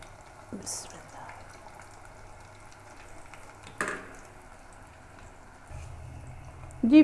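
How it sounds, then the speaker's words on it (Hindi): Onion pakoras deep frying in hot oil give a soft, steady sizzle with a few louder bursts as batter is pressed and stirred with a spoon, close up and fairly quiet. "मैंने ये पकौड़ों ने अपना कलर बिल्कुल चेंज कर लिया, लेकिन मैं इनको दबा के पका रही हूँ"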